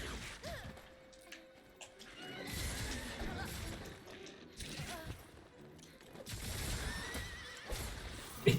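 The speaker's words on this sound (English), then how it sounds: "made the sound of a horse." A horse neighs and whinnies in the video game Monster Hunter World, with clip-clopping hooves and occasional crashes, moderately quiet within a busy game soundscape.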